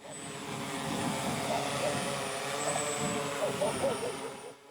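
A relay drone, a long-range communications carrier able to hover, flies overhead at a test range, its steady motor drone humming continuously at moderate distance while a voice talks over it.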